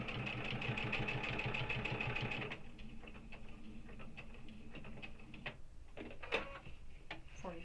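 A sewing machine stitches a backpack, with a rapid, close run of stitching for about two and a half seconds, then stops and gives a few separate slow stitches and light handling clicks.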